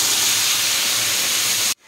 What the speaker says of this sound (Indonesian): Sekarang kita akan masak bahan-bahan yang sudah kita kisar tadi ya.